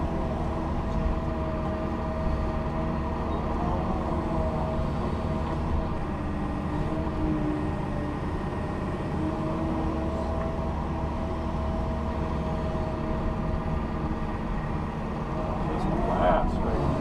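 A Kobelco SK270SR excavator from 2019 running at full throttle while digging through material, a steady loud droning engine hum with little variation and faint mechanical clatter.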